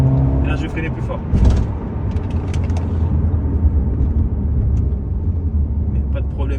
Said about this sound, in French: je vais freiner plus fort